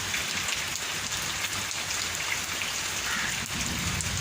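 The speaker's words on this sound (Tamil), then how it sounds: "எங்கள் ஊரில் எப்படி மழை பெய்யுது பாருங்கள்." Steady, dense rain pours down outdoors in a village, a loud continuous hiss with no break and no voices.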